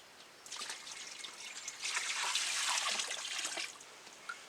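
Tender coconut water is poured in a steady trickling stream that swells louder midway, close and alone with no talk.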